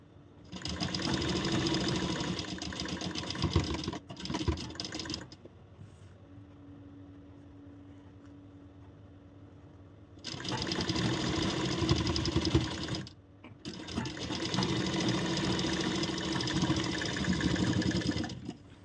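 Electric sewing machine running in bursts while stitching a corset blouse, a steady whirring hum for several seconds, a pause of quiet, then two more long runs close up.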